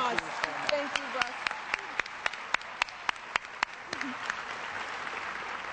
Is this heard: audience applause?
yes